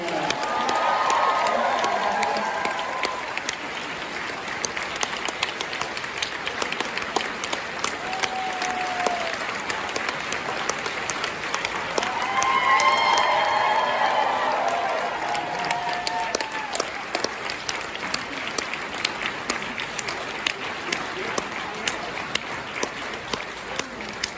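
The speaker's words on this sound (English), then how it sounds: "Why don't we give a big round of applause for Terry Brooks, Diana Gabaldon, and Brandon Sanderson." A large convention audience at a fantasy panel claps and cheers for authors Terry Brooks, Diana Gabaldon and Brandon Sanderson, with sustained roaring applause and whoops that swell midway and then settle into steady clapping.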